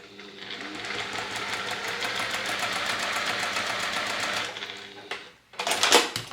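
A sewing machine stitches across quilt pieces in one steady run of rapid whirring for about four seconds, stops, then gives one more short burst.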